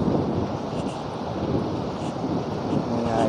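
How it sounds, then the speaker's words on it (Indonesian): Strong wind buffets the microphone on a long bridge over the southern sea, a loud, continuous low rumble with no breaks. "Angin cukup kencang."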